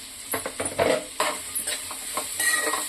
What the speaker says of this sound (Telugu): ఇప్పుడు వీటిని కొద్దిగా సాఫ్ట్గా కుక్ అయిన వరకు కుక్ చేసుకున్నాం